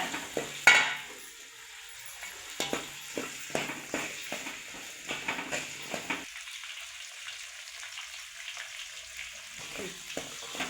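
Ginger and garlic sauté in a pan, a soft frying sizzle with repeated quick clinks and scrapes of a spoon stirring against the metal.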